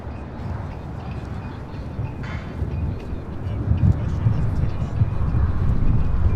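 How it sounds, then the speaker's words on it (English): A Singapore Airlines Boeing 777-300ER takes off from Los Angeles bound for Tokyo Narita, a low distant engine rumble growing gradually louder over wind noise, with a voice talking over it. "Now it's Singapore Airlines Flight 11 taking off to Tokyo Narita on the 777-300ER."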